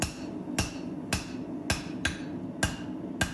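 A twist Damascus Bowie knife blade hammered on the corner of an anvil to shape the ricasso: six evenly spaced ringing metallic blows about half a second apart, close and clear over a low hum.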